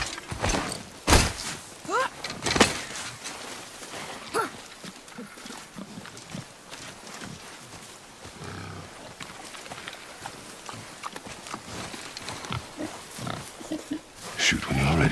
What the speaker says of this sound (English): I knew it was a boar.